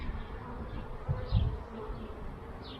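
Honey bees hum in a steady, close, low buzz throughout an inspection of a mini urban beehive, with slight swells in intensity and no talking.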